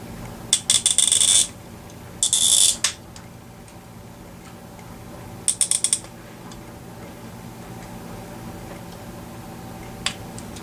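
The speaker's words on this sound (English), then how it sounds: "I'm shredding the head on the screw" A screwdriver slipping and shredding a screw head on a De Armond Jet Star guitar, in several short harsh grinding bursts separated by quiet pauses, ending with a single faint tick.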